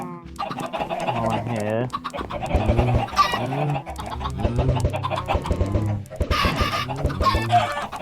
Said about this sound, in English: Oh, that's a lot of baby chickens.